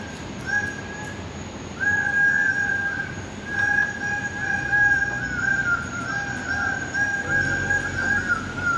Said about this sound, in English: when you press them, you get to hear the sound of each bird